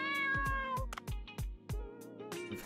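Momo the cat in Dave the Diver meows repeatedly in short, bright calls over a soft music bed with low thumping beats, close and clear, with no talk.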